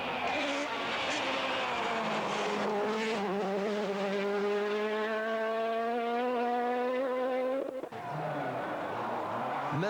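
A Citroën rally car drives hard at speed, its engine revving up in a long rising howl, briefly dropping at a gear change, then pulling strongly again, loud and close throughout.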